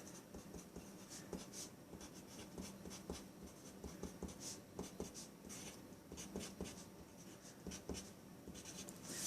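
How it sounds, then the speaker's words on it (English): Steady scratchy strokes of handwriting on a board or paper, close and fairly faint, running continuously with short irregular bursts and no talking. "let me just write this down here again real quick"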